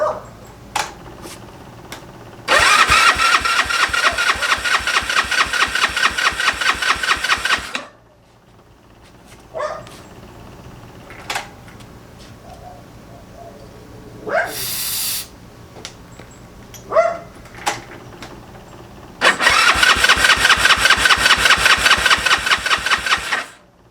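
A Honda Ruckus scooter's GY6 171cc engine cranks on choke in two long bursts of rapid rhythmic chugging that fail to catch, with clicks and quiet pauses in between.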